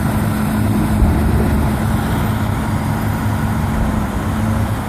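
Bulldozer and dump truck at work on a site, heard as a steady low diesel rumble with a constant hum, moderately distant, and no talking.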